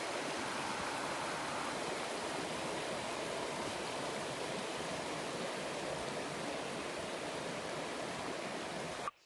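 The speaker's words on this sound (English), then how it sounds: "I'm going to drop down to the river, then I'm going to have to cross it" A river at Red Creek, on a hike through the Dolly Sods and Roaring Plains, rushes steadily and loudly, a continuous broadband wash of flowing water with no voices.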